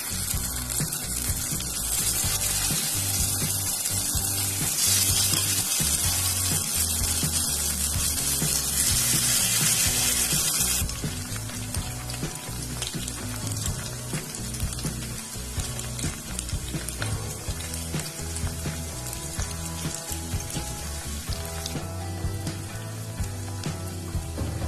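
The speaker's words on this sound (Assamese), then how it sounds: "পনীৰখিনি মই এতিয়া অলপমান ৰঙচুৱা হোৱালৈকে ভাজি ল'ম।" Cubes of paneer frying in hot oil in a kadai: a steady, fairly loud sizzle and hiss holds throughout, with scattered small crackles and occasional scraping clicks, and no talk.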